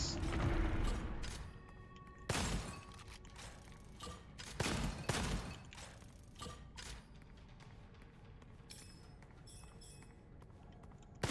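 Gunfire from the video game Gunfire Reborn comes as a scattered series of sharp, quiet shots and short volleys, irregularly spaced, with occasional mechanical clicks between them.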